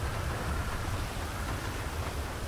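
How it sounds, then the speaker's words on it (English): Steady rain falling in a video game, a dense, even hiss of noise that holds without a break for a couple of seconds. "It's raining outside."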